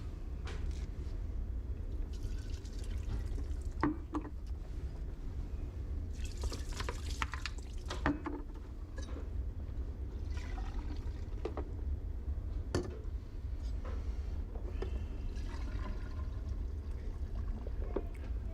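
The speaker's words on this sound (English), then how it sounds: "Just going to pour the soapy water into all of my containers." Soapy water poured into laboratory glassware, including graduated cylinders, heard as repeated bursts of splashing and dripping with uneven pauses, moderately quiet over a low background hum, with no talking.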